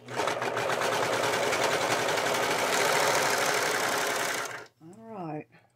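Sewing machine stitching a man's shirt, a steady continuous run of rapid mechanical chatter lasting several seconds before stopping, followed by a short bit of someone speaking.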